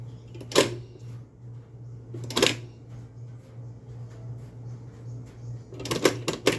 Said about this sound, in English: I'm snapping through all speeds here, and there's no jerking and hesitation from the belt.